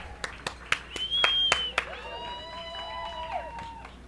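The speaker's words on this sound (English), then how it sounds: "So we hear clapping" Spectators at an ultramarathon clap in a run of sharp, evenly spaced claps near the expo tent. Whistling tones and crowd murmur run under the clapping, and voices are heard in the background.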